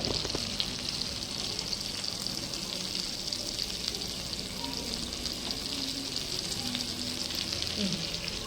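Fish fries in a pan with crushed garlic on top, a continuous even sizzle up close with faint stirring, no speech.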